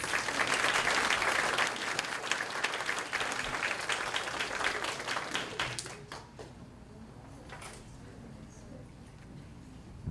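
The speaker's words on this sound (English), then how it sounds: "Let's give them all a round of applause" An audience applauds at an elementary school kindergarten celebration, loud sustained clapping that thins out and fades to a quiet, scattered patter after about six seconds.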